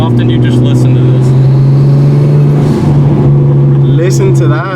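Nissan Skyline R34 with its stock turbo, heard from inside the car while driving: a loud, steady engine drone with a strong low hum that wavers as the revs shift, and brief speech over it.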